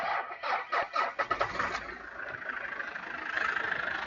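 Diesel car engine cranking over on a jump starter, a few rhythmic starter turns that catch and settle into a steady, moderately loud idle rumble.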